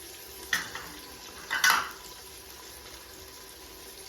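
Spices sizzle and get stirred in a pan as the base for a goat head and leg curry, with a steady low fry, a couple of scraping stirs and light clinks of a spoon against the pot, close by.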